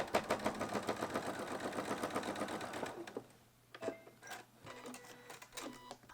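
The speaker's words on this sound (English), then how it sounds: "I'm going to continue that stitch all the way off the quilt." Sewing machine stitching through fabric binding at the edge of a quilt, a steady rapid needle chatter for about three seconds that stops, followed by quieter handling clicks and rustles.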